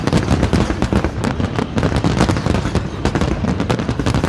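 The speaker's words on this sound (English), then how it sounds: "fireworks were set off across the Victorian Harbour" Loud fireworks over Victoria Harbour bang and crackle in a rapid, irregular barrage, bursts overlapping continuously.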